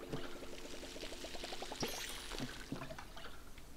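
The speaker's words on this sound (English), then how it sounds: "First things first, I'm going to water the tomatoes." Water poured onto tomato plants in the farming video game Palia, a soft, quiet trickle with a run of light, evenly spaced tonal plinks and a few brighter splashes.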